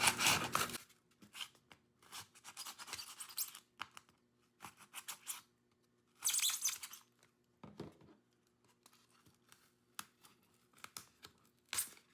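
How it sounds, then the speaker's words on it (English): Scissors poke a hole into a Dollar Tree craft pumpkin, giving close, quiet scratchy crinkles and short tearing bursts separated by pauses, with a faint steady hum underneath. "I just like to stick my scissors in here"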